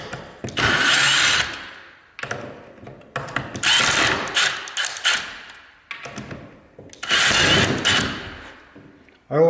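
A power drill whirs in three long bursts, close and loud, backing screws out of door hinges, with short pauses and thumps between runs.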